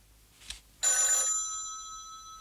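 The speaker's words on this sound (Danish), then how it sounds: "Telefonen." An old-style telephone bell rings once in a Danish TV comedy, a loud sustained metallic ring lasting about half a second that fades slowly, preceded by a faint soft knock.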